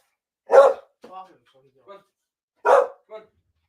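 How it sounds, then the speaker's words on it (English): A dog barks in two short sharp bursts, each trailed by a softer yip or whine, asking to be let outside in a quiet room. "All right, now you want to go outside? You bark."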